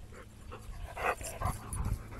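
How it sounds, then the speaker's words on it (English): Two dogs, one of them a fast puppy, play together near an RV, with close, breathy panting and scuffling in short irregular bursts of moderate loudness. "That was a fast little dog."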